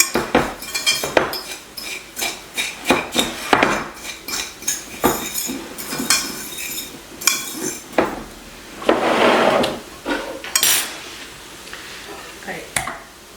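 Ingredients with grated Parmesan being stirred in a bowl with a utensil, giving repeated scraping and clinking strokes in an uneven rhythm. It is close and fairly loud, and continues steadily throughout.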